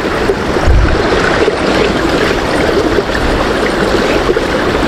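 A strong river current flows in a deep stream, a loud, steady rushing wash of water close by, with no talking.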